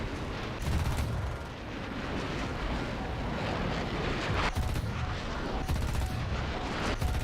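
Aircraft cannon fire at an enemy plane in War Thunder, bursts of rapid booming shots over a constant engine roar, with a sharp burst near the start and more near four and a half and seven seconds.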